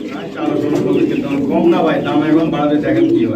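A pair of Megh Pie pigeons coo close by in a steady, low, throaty rhythm with soft rolling calls repeating throughout.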